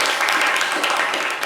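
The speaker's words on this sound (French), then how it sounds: "Non, ça mérite des applaudissements" A brief burst of applause from a crowd, dense steady clapping with some voices mixed in.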